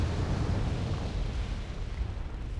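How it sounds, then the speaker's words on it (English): Bombs detonate in the Wargame: Red Dragon video game, a sustained rumbling roar of explosions, broad and heavy, continuing without a break over about three seconds. "Oh, the bombs."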